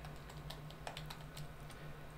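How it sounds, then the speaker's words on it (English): Soft keystrokes tap on a computer keyboard while a password is entered, a quick, faint run of clicks heard up close over a low hum. "At this point, I'll go ahead and type in my password"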